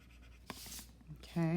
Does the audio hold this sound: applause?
no